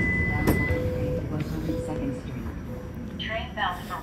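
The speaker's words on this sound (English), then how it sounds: "Train bound for 102 Street has arrived." An ETS Valley Line LRT train on Bombardier cars pulls into a station, with a low rolling rumble, a brief chime tone and door hiss, while people talk nearby.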